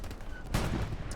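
Gunfire from tank combat in the video game Hell Let Loose on Utah Beach, with a loud crunchy blast at mid-clip that sits over a steady rumbling battle background.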